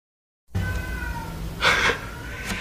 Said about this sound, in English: Hear the cats? Listen.